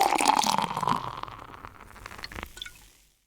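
Abita Fruited Doppelbock beer glugs and splashes into a glass, loud at first and then tapering into fizzing and a few clinks before falling silent.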